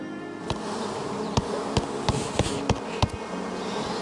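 Bees buzz around a garden near a hive, a continuous close drone with several louder passes as individual insects fly by the microphone.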